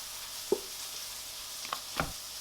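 A Big Mac beef patty fries in a pan with a steady, soft sizzle, broken by a few brief clinks and scrapes nearby, and no one speaks.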